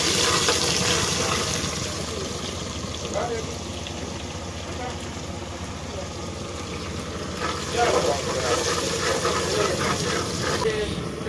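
Garlic frying in a little ghee in a pan while cooking chicken karahi outdoors in Arang, a steady broadband sizzle throughout, with a voice talking over it.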